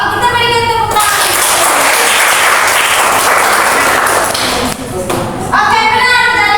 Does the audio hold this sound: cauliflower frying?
no